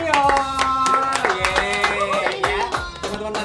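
Audience clapping at an Indonesian film cast appearance, short bursts of hand claps mixed with cheering voices and a bright tonal cue, loud and close over a few seconds.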